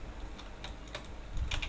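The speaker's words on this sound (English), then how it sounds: "press G on the keyboard and then rotate" Quick, light keystrokes clatter on a computer keyboard in a few soft, irregular bursts, close by and fairly faint, with no talking.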